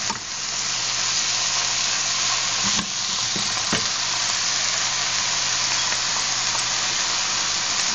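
Eggplant frying in a pan, a steady loud sizzle that runs without a break, with a few faint clinks of stirring.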